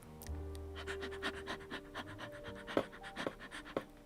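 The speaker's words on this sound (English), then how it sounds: "There's a dog in our house" A dog pants close by in quick, rhythmic breaths, one steady series running about four seconds, with a few sharper huffs near the end and a low hum underneath.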